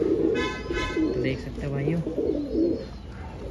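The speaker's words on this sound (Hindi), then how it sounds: "वो कबूतर गुटक रहा है" A pigeon coos in low, rolling phrases at close range while someone talks over it in Hindi.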